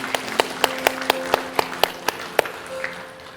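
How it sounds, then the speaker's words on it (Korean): A few slow, evenly spaced claps in a Korean church Sunday worship service, about ten distinct sharp hits in a loose rhythm over a faint sustained tone, tapering off at the end. "정말 한번 박수 한번 쳐드렸으면 좋겠습니다"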